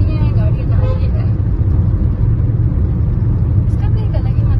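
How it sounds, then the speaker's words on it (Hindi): Buses and cars drive through a dark highway tunnel, making a dense, steady roar of traffic rumble that fills the space evenly without any break. "बसेस जा रही है, गाड़ियां जा रही है"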